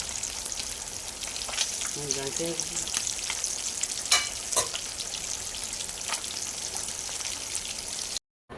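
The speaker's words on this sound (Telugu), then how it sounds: "ఇలా తిప్పుకుంటూ రెండు వైపులా ఫ్రై చేసుకోవాలి" Moon fish fries on a medium flame, producing a close, constant crackling sizzle. Spatula scrapes and knocks mark the pieces being turned over, and the sound cuts off abruptly just before the end.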